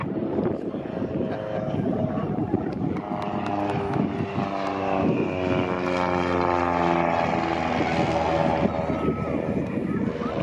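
A Super Decathlon aerobatic airplane flying rolls at an air show, its propeller engine droning steadily and loudly with shifting pitch, with wind noise and a voice talking over it.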